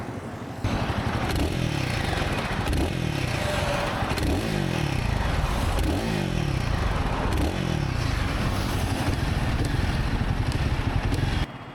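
A Royal Enfield Guerrilla 450 motorcycle engine starts up, then gives several repeated throttle blips that rise and fall over a steady close-up idle thrum, loud and alone.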